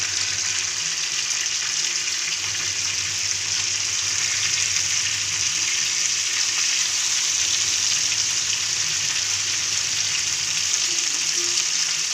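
Fish sizzles and fries steadily in a hot pan with oil, a continuous bright crackling hiss that stays even and close throughout, with no talking.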